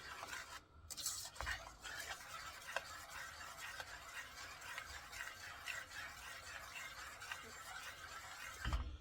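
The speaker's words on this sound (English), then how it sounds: "So I'm gonna be stirring this and let it thicken" A spoon stirs a 7UP cake glaze in a saucepan on the stove, soft scraping and swishing strokes repeating steadily at close range, with a faint simmer and a couple of light clinks.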